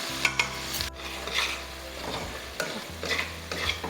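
Tomatoes and masala for gola kabab fry in a pan while a spoon scrapes and stirs repeatedly, producing close rasping strokes over a soft sizzle and a low hum, with no talking.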